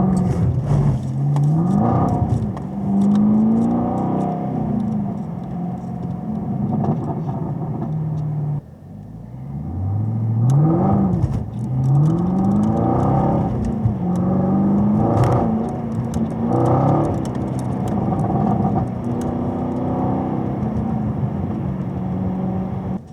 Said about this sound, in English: You can see the car start to try to pull away from me when I do an aggressive takeoff.